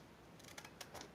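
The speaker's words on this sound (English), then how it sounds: "these are not the scissors that I think you should be using" An old pair of household scissors, about 45 years old, snips through paper during journal and reverse-collage work. The cuts are quiet and close, with a few short crisp snips in near silence.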